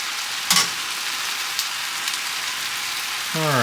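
Pork and yakisoba noodles stir-fry in a pan with a steady, dense sizzle throughout, a couple of brief clinks or scrapes, and a tonal sweep near the end.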